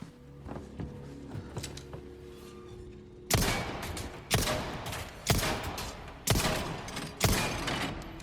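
Five evenly spaced gunshots in the video game Resident Evil 4 (2023), Separate Ways, each a loud sharp crack with a short decaying tail about a second apart, following a quiet stretch of soft mechanical clicks and ambience.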